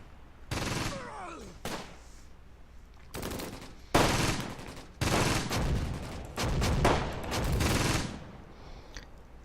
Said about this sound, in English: fire some artillery rounds at the anti-tank gun down there